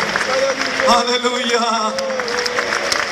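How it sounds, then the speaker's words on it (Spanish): A church congregation claps steadily through a worship gathering, the scattered hand claps running under a voice speaking and calling out over them. "rendirle ese honor, esos aplausos"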